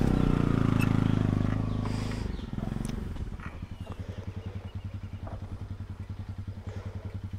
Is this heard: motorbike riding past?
yes